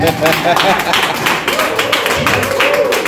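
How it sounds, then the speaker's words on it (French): Scattered audience clapping at a French-language testimonial presentation, partly buried under a person talking loudly over it throughout. "On l'applaudit."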